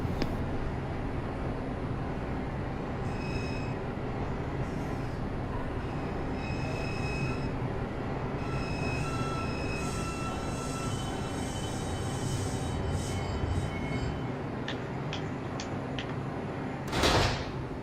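A Brooklyn-bound 3 express subway train on a Roblox IRT mainline rumbles steadily along the rails, with faint squeals and tonal whines, ending in a brief loud hiss near the end.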